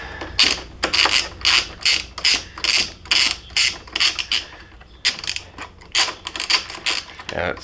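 A hand ratchet with a 15 mm socket turns crash bar bolts on a 2020 Indian Challenger motorcycle, giving close, rapid bursts of clicking in a steady stroke rhythm throughout.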